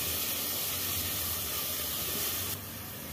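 Ground paste frying in a pan with bay leaf and shahjeera for a double beans vegetable pulao produces a steady, fairly loud hiss and sizzle that dips slightly just before the end.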